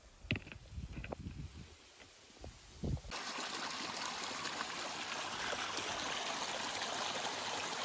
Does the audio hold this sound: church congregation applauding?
no